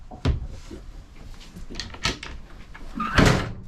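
A pan drawer under the hob in the galley of a Fairline Targa 47 GT yacht slides open and shut, giving a few sharp thumps and rattling glides spread across a few seconds.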